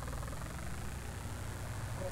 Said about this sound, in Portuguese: O meu tratorzinho Fiat.